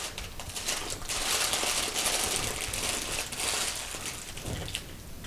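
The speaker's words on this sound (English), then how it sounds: "we'll just fold that aluminum foil up" Aluminum foil folded up around a paper towel, close, continuous crinkling and crumpling that swells and eases in short bursts.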